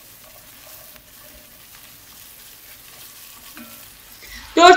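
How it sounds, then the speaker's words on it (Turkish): Minced garlic and a spoonful of tomato paste frying in a pot, quiet for most of the stretch before a sudden loud sizzle bursts out near the end. "Bir yemek kaşığı kadar da domates salçasıyla öncelikle kavuruyorum."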